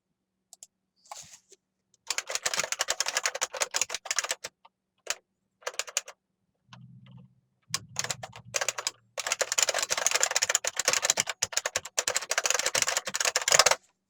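Loud, clattering bursts of computer keyboard typing come in fast runs broken by short pauses, close and dry, with a brief low hum between bursts.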